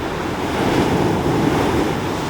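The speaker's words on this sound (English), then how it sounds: "It's the way the waves are flicking on the line of it." Rough sea waves pound and churn at Chesil Beach, Portland, a dense, loud surf roar with gusting wind buffeting the microphone, steady and close with no one talking.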